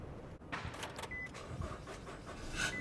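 A car on a busy highway shoulder cranks and restarts after a stall. Clicks and a whirring crank are followed by the engine catching and running at a moderate level, with a faint electric window whine near the start.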